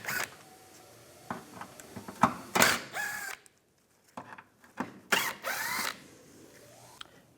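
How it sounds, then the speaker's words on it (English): A T30 socket on a ratchet backs out headlight screws on a Lincoln MKC, producing short bursts of ratcheting clicks with quiet gaps between them, heard close up and without voices. "Take these 3 screws out, use the same T30 socket"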